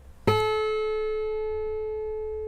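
A single sustained tone tuned to A at 432 Hz sounds alone, with a sharp onset followed by a long, steady decay and clear overtones above the fundamental.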